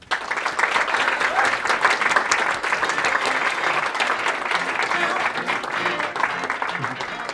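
Continuous applause from a conference audience welcoming a speaker to the stage at a corporate technology event, a thick, even roar of many hands with faint voices mixed in.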